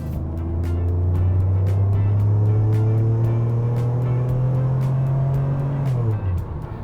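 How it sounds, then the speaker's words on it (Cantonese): A Mercedes-Benz 600 SEL V12 accelerates in a long, smooth pull, its deep engine note climbing steadily in pitch and swelling louder from inside the car before easing off at the end. "你大家聽到嘅後期嗰啲係應該係引擎聲嚟㗎啦"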